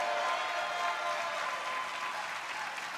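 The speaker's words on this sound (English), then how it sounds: "Let's give a round of applause for James" Steady, even applause from an indoor audience greeting a men's singles tennis champion after the Vulcan Indoor National Championship final, sustained and moderately loud throughout with no voices on top.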